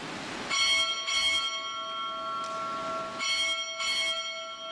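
Ship's bell struck four times in two quick pairs at a US Navy Recruit Training Command change of command ceremony, clear ringing strokes with long sustained overtones, heard alone outdoors.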